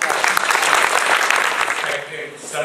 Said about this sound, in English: please welcome with a warm applause the one and only